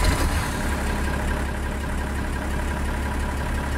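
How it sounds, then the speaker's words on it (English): An old Bruder 6105 tractor idles in Farming Simulator 19, a steady, loud low engine rumble that holds constant throughout with no speech. "this old tractor is pretty cool, actually."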